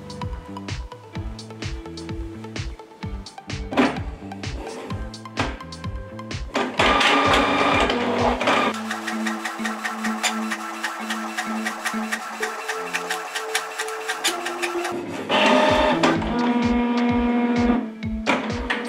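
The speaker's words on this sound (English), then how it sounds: "here I quickly print a test print from Mopria" A Canon PIXMA TR4600-series inkjet printer prints a wireless test page: rhythmic mechanical clicks and thumps, then long whirring passes of the print head shuttling back and forth, steady and close.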